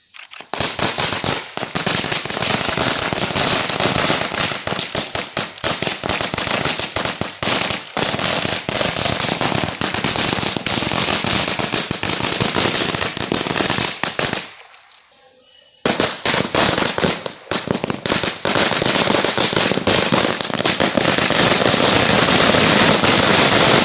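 Firecrackers explode in dense, continuous crackling bursts, loud and close, with a short near-silent break midway before the barrage resumes.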